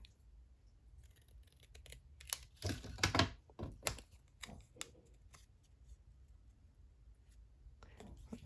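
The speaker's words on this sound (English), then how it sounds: "Just trim that off a bit more." Scissors trimming paper for a card craft, close and quiet, with a cluster of crisp snipping cuts in the middle followed by faint rustling, over a low room hum.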